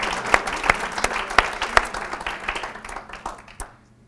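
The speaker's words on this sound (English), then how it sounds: "Let's clap for Pope Francis and this encyclical." An audience at a talk on Laudato Si' claps for Pope Francis and the encyclical, the applause thinning into a few scattered, distinct claps before stopping.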